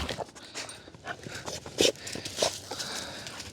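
A dog pants and snuffles close by on a disc golf course in Georgia, with footsteps and soft shuffling around it and a faint voice now and then.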